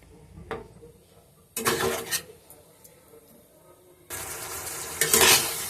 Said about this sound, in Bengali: আলু বেগুন তোলার পরে সামান্য একটু কষে নেব।